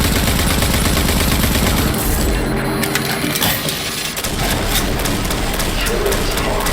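Heavy turret gunfire in the video game RAGE 2, a loud continuous mechanical barrage with crunching impacts, briefly dipping midway before resuming dense rapid fire.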